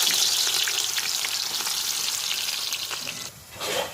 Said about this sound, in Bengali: রান্না বিরিয়ানির জন্য বেরেস্তাটা ভাজা হবে এগুলোকে পেঁয়াজগুলো দিয়ে